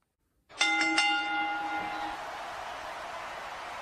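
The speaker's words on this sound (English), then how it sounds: "just ring the bell." A bell at a toy plush wrestling match rings with a sharp metallic strike and a quick second hit, then a long resonant ring that slowly fades, clear and close.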